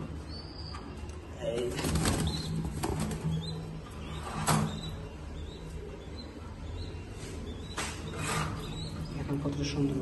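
Racing pigeons and their young on a loft farm coo and rustle nearby, with brief wing flutters, while someone talks over them.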